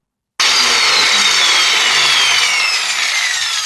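A die grinder fitted with a sanding attachment starts abruptly and runs loudly, a harsh high whine with a gritty sanding rasp, steady and close for a few seconds.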